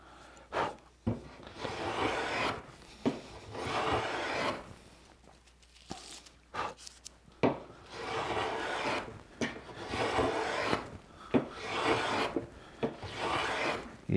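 A Stanley Sweetheart low angle block plane shaves along wood grain in a series of rasping strokes, each lasting about a second, separated by brief pauses. The passes are fairly quiet and close, with no speech.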